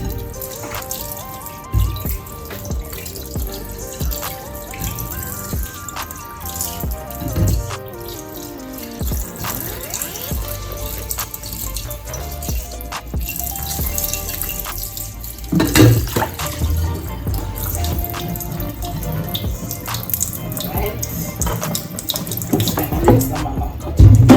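Kitchen tap water running over a cutting board as it is rinsed, a steady splashing flow with shifting tones and occasional knocks and clatter from handling the board, no talking.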